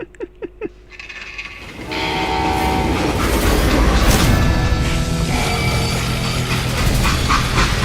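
Train running in the Western shooter game Call of Juarez: Gunslinger, opening with a few sharp metallic knocks before a loud, steady rumble of wheels and rattling cars rolls in and continues without letup.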